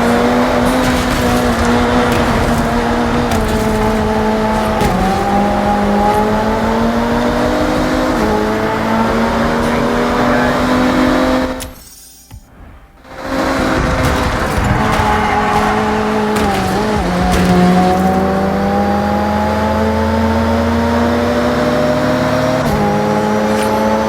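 Race cars in the video game Forza Horizon roar along at speed, a loud continuous engine drone with shifting pitch and tire noise, broken by a brief near-silent gap mid-race before the engines return.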